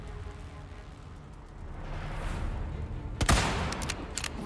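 Gunfire from the Resident Evil 4 video game: a sharp loud burst of shots crackles out after a stretch of low ambient rumble, followed by a few scattered lighter reports.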